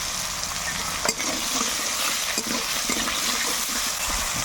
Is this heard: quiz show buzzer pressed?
no